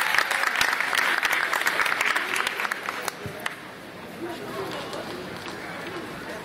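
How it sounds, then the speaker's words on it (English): Audience at a Voorhees College ceremony breaks into sustained applause, dense clapping mixed with crowd chatter and cheers, loud at first and easing to a softer background clatter. "Y'all give her another round of applause."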